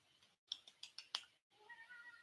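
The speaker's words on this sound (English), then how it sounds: "I apologize if you hear any sounds in the background. My cat is being my cat." A pet cat meows indoors in a quiet room, giving a few short, sharp meows in quick succession, then a softer, drawn-out call. A faint clicking sounds in between.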